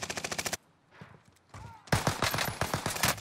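Gunfire in Warzone crackles in rapid bursts, loud automatic volleys at the start and again near the end, with a quieter gap between.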